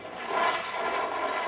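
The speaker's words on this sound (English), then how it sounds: "whether when it's flushing it actually makes little droplets and vapor that go everywhere" A toilet flushes with a rushing, gurgling water surge, close and fairly loud for a brief moment with no talking.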